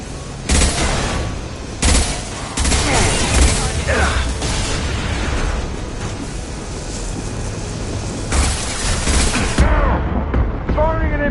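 Repeated gunfire bursts and heavy weapon blasts in a Mass Effect 2 firefight on PS4, with a fuel tank being shot loose, sharp shots recurring across the scene while voices shout over the combat.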